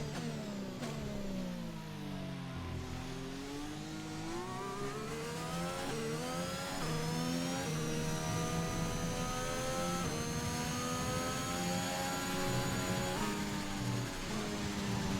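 Formula 1 car engine in the video game F1 2021 on the final lap of the United States Grand Prix, a high continuous whine rising and falling through gear changes, steady and engine-only.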